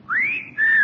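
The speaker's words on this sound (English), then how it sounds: "I find that whistle intensely objectionable, young man" A young man gives a short two-note whistle: a rising, arching tone, a brief break, then a second sustained note that drifts slightly down, clear and close with no talk over it.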